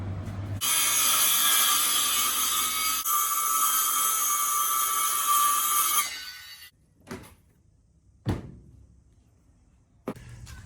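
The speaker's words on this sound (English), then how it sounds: "I'll put the trimming over the max fan and I'll just screw it in" A screw is driven through trim over a Maxxfan in the ceiling of a Toyota HiAce long-wheelbase camper van: a long, loud mechanical whir runs for several seconds, then stops, followed by a few sharp, separate knocks in a quieter room.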